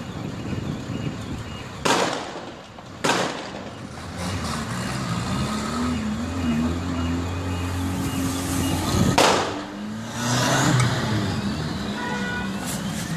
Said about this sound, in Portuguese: Os carros passando, tentando se livrar desesperadamente e a bala comendo solta.